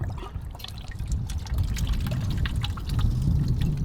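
Clean water pours through a dirty old motor that sat unused for ten years and comes out as sludge, a close, steady splashing trickle with gurgling drips and no talking.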